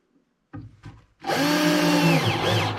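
A couple of soft taps, then a power drill whirs up and runs steadily, its motor pitch bending as it drives 3/4 inch screws into wood while fitting bathroom vanity doors.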